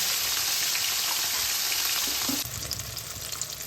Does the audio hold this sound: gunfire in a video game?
no